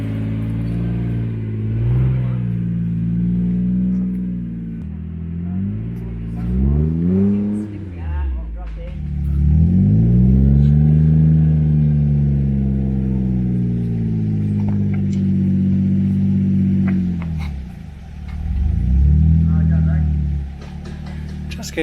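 A 4x4 on narrow 33-inch tires climbs a steep, slippery clay hill, its engine revving in repeated rising and falling surges, loud and close, with occasional voices over it.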